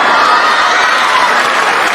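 A crowd applauds at a Hindi comic poetry recital, a loud, unbroken wash of clapping that lasts the whole moment.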